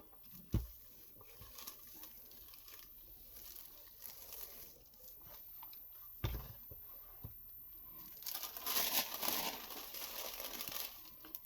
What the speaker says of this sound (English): Well, it would help if I put wax paper across the whole thing.